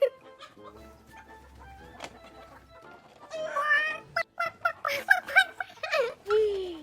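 Chickens cluck and squawk nearby in a burst of short calls, after quieter sounds of a person moving about.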